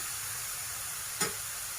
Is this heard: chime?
no